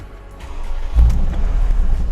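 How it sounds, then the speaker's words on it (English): A Mercedes-Benz G63 AMG engine starts up with a low burst near the one-second mark, then settles into a steady, deep rumble close by, with no talking. "Starting up the car"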